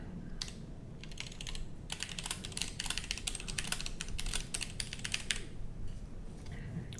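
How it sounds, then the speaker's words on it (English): Fingers typing on a computer keyboard, a close, fast, irregular clatter of key presses across several seconds with a few short pauses and low background hum. "So let me just type that in."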